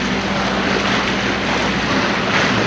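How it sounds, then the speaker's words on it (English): A sailboat motor-sails in light Atlantic wind with its engine running slightly above idle, a steady low drone under a constant wash of wind and water along the hull. "we're just motor sailing because we don't have enough wind to really get us out of here"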